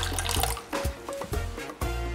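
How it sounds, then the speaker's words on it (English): Warm water pours into a bowl of yeast for Canadian beavertail pastry dough, a close splashing, gurgling trickle with choppy bursts and brief pauses, no voices over it. "now I'm going to add my water. It's really important that it's warm."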